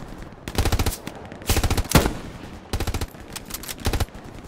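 Video-game machine gun firing in the Battle of Foy, loosing short, rapid bursts separated by brief gaps, close and loud with no talk over it.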